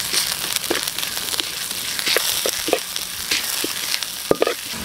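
Garlic, ginger and onion sautéing in a pan, a steady close sizzle and hiss with scattered light clicks and stirring scrapes, and no voices.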